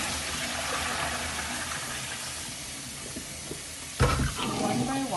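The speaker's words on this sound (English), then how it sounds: "Now we are going to rinse the potatoes in cold water." Potatoes being rinsed in cold water, a steady hiss of running water with a louder splash and gush near the end, close and alone.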